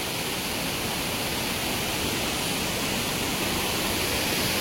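A steady, full roar of water pours over a waterfall into a rocky stream gorge with cliffs on both sides, during a crab-catching outing. The rushing sound is constant, close and loud throughout, with no voices.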